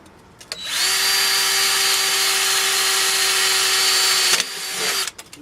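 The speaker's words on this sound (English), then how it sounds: "Just drill that dimple." A power drill whines at a steady high pitch for several seconds, drilling out a dimple in the metal of a 1941 wood-burning stove, starting and stopping cleanly with brief clicks around it.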